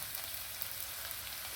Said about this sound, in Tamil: இப்போ நான் அந்த தாளிக்கிறதுக்கு வேண்டிய சாமான்லாம் போட்டு இந்த கேப்சிகமும் வெங்காயமும் போட்டுட்டேன்.